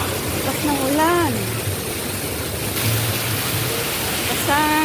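Heavy rain pours down in a steady broadband hiss throughout, while a voice speaks briefly over it at the start and again near the end.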